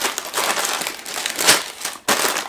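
Plastic parts bags rustling and crinkling inside the cardboard box of a CADA Master Italian supercar brick model kit, with close, continuous crackling handling noise that swells and dips, then resumes sharply after a brief pause.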